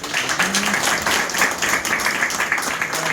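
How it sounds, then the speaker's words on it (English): Audience applause at a bank-sponsored Diwali community celebration in Little Guyana, USA, a steady wash of many hands clapping, loud and sustained throughout with a brief voice underneath. "Give her a big round of applause."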